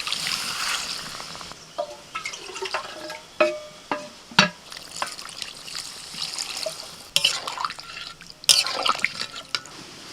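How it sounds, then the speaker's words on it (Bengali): Water goes into a pan of potatoes and spices, heard as irregular splashes, drips and trickles with a few sharper clatters over ten seconds, close and moderately quiet. "এবার জল দিয়ে দিচ্ছি"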